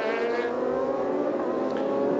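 Superstock 600 racing motorcycles on a European Superstock Championship warm-up lap at Silverstone, a loud sustained multi-engine whine from the distance, layered and continuous with rising and falling pitch.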